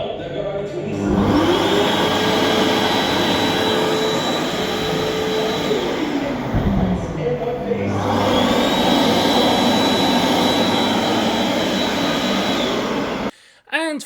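Electric hand dryer in a public restroom in Auckland blowing a loud, steady rush of air in two long bursts, the airflow shifting as hands move under it.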